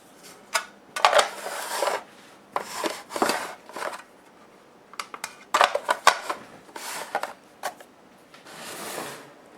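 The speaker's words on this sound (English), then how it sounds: "this whisk is good for mixing this stuff up here" A whisk scrapes and clatters in uneven bursts inside a big bowl, mixing sourdough ingredients up close, with short pauses between strokes.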